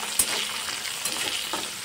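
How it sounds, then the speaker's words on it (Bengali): Chillies, garlic, salt and turmeric sizzle in a hot pan as they are stirred, a steady close frying hiss broken by a few soft scrapes of the spoon, with no voices. "এবার একটু নাড়াচাড়া করে নেব।"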